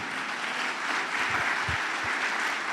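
A church congregation applauding during a Spanish-language sermon on Jesus's entry into Jerusalem: a dense, even wash of clapping from many hands, sustained for a few seconds with a few low thumps underneath.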